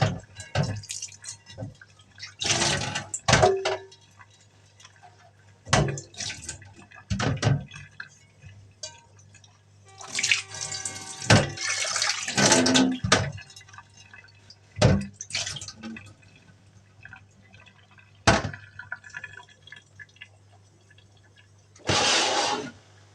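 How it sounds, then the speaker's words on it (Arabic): Taro is washed by hand in a bowl of water under the tap, with irregular splashing bursts, drips and occasional clinks of the container against the sink, close and intermittent. "نغسل القلقاس ازاي؟"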